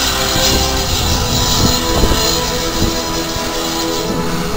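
A steam train departing at Sheringham station gives a loud, steady rumbling roar with faint rhythmic chuffing beats, close by and continuous throughout.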